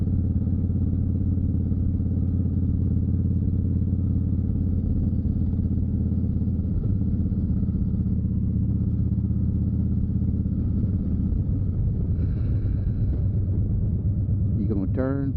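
Motorcycle engine rumbling steadily throughout a ride on a nice day, a constant loud drone with shifting pitch, with a person talking over it.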